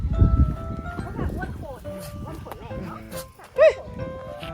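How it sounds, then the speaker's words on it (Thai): A dog gives a short, sharp yelping bark amid close, lively talk outdoors, with scuffling and handling noise around it. "ได้ยินเสียงหมา"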